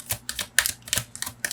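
A deck of tarot cards is shuffled by hand, giving a run of quick, crisp riffling clicks and snaps in uneven bursts. The sound is close and moderately loud, with no voices.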